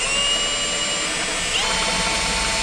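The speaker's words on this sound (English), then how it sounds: "Drill the bolt off, I should say." Power drill boring steadily into a broken licence plate bolt, a continuous high whine with a slight pitch shift partway through, close and loud with no talking.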